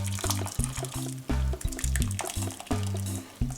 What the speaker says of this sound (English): we're just going to sieve the mixture straight through